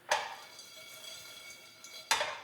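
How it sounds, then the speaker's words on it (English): Cashew nuts and sesame seeds tossed in a hot dry pan give two sharp clattering bursts, one at the start and one near the end, with a faint steady hiss between them. "Just going to put the cashew nuts and the sesame seeds in the pan for about a minute, and we're just going to toast them"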